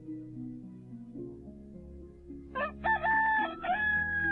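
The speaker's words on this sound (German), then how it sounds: "Da kräht der Hahn." A rooster crows in the video game Towns, a clear rising cock-a-doodle-doo call standing out over soft background game music.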